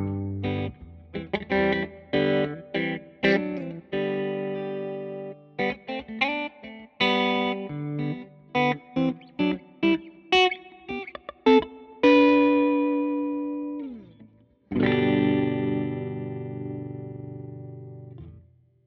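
Electric guitar played through a Fender Tone Master Pro amp preset with only noise gate and reverb, picking choppy chords and single notes that cut off sharply, then ringing out into two long sustained chords with a reverb tail.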